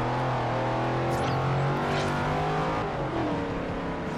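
A car engine drones loud and close in the racing game Forza Horizon, its steady tone rising and shifting as the revs change, with no speech over it.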